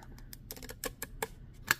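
Scallop-edged scissors cut across cardstock in a series of quiet, crisp snips and clicks, spaced irregularly and close by, with one sharper snip near the end.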